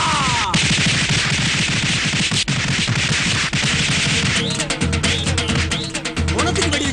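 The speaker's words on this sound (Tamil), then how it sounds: "பொணத்துக்கு வெடி வச்சிருக்காங்க." Firecrackers set off at a funeral, a dense, continuous crackle of rapid pops and bangs that carries on for several seconds, loud and chaotic, with whistling or shrieking bits mixed in toward the end.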